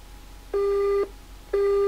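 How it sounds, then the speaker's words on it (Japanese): A telephone busy signal heard over a phone call: two clear, identical half-second tones separated by a half-second gap, steady and moderately loud, with faint line hiss between them and no one speaking. "電話中でした"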